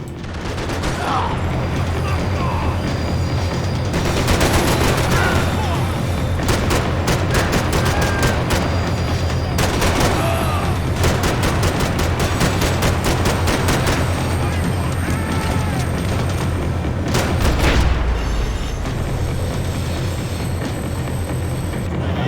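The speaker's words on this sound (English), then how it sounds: "Blind fire is so bad." Blind-fire gunshots in the Max Payne 3 video game, rapid bursts of gunfire crackling repeatedly over a steady game soundscape with a low rumble, loud and dense throughout.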